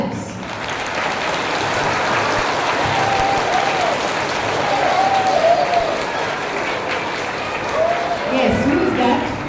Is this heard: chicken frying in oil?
no